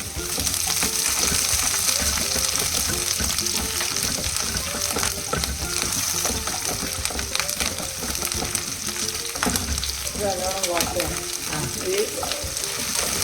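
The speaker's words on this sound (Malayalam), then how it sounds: "ആ പച്ചമണം പോകുന്ന വരെ വാട്ടുക" Chopped kanthari chilies, with garlic and ginger, sizzle and fry in hot oil for a papaya pickle, giving a steady loud crackle with intermittent stirring scrapes throughout.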